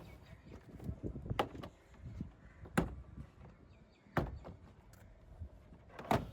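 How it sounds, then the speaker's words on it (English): A trim removal tool pops the retainer clips off a 2022 Honda Jazz door card, giving several sharp, separate plastic snaps spaced a second or two apart amid quiet rustling and handling. "Now use a trim removal tool to undo all the retainer clips that is holding this door card."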